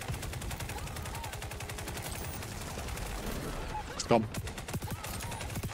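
Rapid automatic gunfire rattles in a video game as players shoot at a shield bubble, with steady close bursts running throughout and a brief voice near the end.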